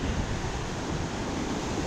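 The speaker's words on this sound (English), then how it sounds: "Those are really rough waves out there" Rough ocean surf on the coast of the Pacific island of Nauru, a steady broadband roar of breaking waves mixed with wind buffeting the microphone, moderately loud and continuous with no voices.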